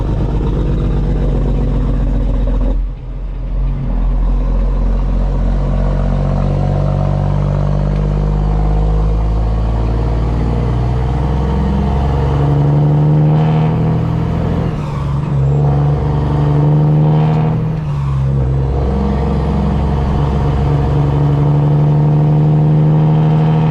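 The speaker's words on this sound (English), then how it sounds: "You can hear me over top of the pipes." A custom Peterbilt truck with straight pipes drives along a two-lane road, its loud, deep exhaust drone steady throughout with shifting engine tones and brief dips; someone talks over it.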